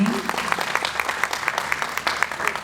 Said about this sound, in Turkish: Öncelikle orkestradaki sevgili arkadaşlarımıza, dostlarımıza kocaman alkışlarınız gelsin